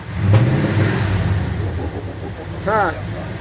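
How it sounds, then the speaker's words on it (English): A muscle car engine revs hard and drops back, with a sharp backfire pop near the end, heard close up beneath people talking. "It backfires when you rev it up real high and let off the gas."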